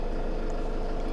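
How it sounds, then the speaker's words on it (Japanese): A parked camper van's engine idles at a steady, even hum, a continuous low rumble with no changes in pitch or rhythm and no voices. "じゃあ一旦走行しない状態でエンジンだけかけてみます"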